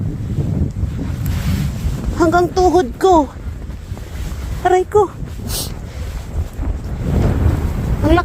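Strong wind roars over a snow-covered frozen lake, buffeting the microphone in a constant loud rush, while someone speaks and exclaims briefly over it.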